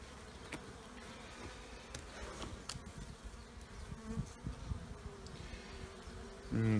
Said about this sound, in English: And a lot more bees than there was in the other top box of the other hive.